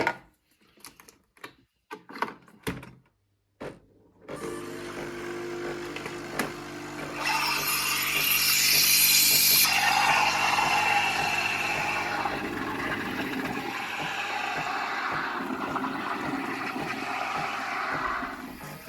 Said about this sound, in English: we're going to put 2 shots of ristretto in now into a flat white then